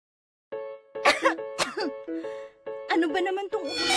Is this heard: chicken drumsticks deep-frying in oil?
no